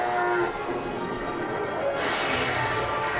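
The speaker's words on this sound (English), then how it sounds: "Ooh, I got a new cow." A cow moos in a video game, one long drawn-out low bovine call that swells and then shifts brighter partway through, loud and close with no talking over it.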